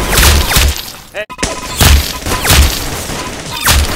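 Several loud gunshots ring out in quick succession, each a sharp, close boom with a ringing tail.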